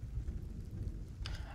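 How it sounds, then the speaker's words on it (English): Soft rain patters against a low rumbling wash, faint and steady, with a brief brighter splash near the end. "It's just me and some rain."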